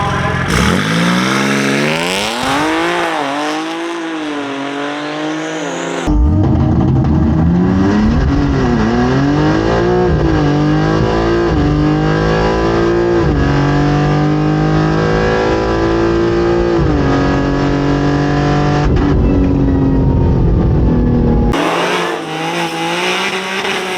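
A BMW G80 M3 makes a full drag strip pass, engine roaring loud and close through rising gear pulls with brief shift breaks, tires squealing at launch.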